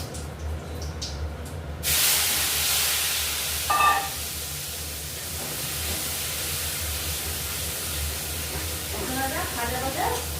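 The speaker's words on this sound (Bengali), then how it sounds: "জিরে ফোড়ন দিচ্ছি" Cumin seeds dropped into hot oil for palak paneer, bursting into a loud, steady sizzling hiss that continues close up, with a few faint clinks of utensils.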